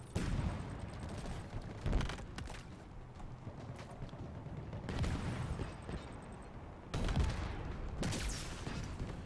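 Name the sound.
sniper gunfire in the video game Halo Infinite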